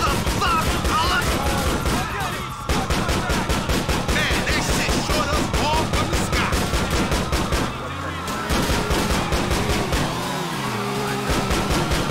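Video game gunfire from GTA IV: The Lost and Damned, with dense bursts of automatic fire and shots running almost nonstop, loud and close, mixed with game sounds and vehicle noise.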